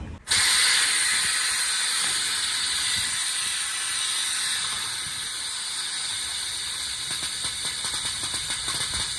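A hand-operated vacuum brake bleeding tool draws brake fluid from the brakes of a rotted-out V8 HQ ute, giving a continuous hissing suction with faint rapid ratcheting clicks, steady and close throughout.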